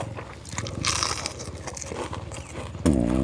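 Eating rice with chili paste and blanched vegetables outdoors, with close biting and crunching chewing sounds running throughout and a louder burst near the end.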